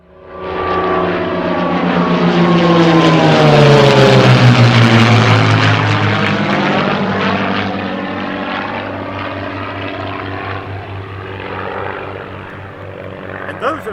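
An SX-300 propeller airplane roars loudly at close range, its engine and propeller drone rising with sweeping harmonics, then settling into a steadier, slightly quieter hum.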